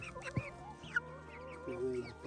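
Hens on a homestead cluck and murmur close by in a short run of uneven, throaty calls, with a louder squawk near the start and a sustained call toward the end.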